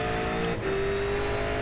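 Ford Falcon V8 Supercar engine in the iRacing sim, a steady sustained drone with a brief dip and shift in pitch midway, heard alone and fairly loud.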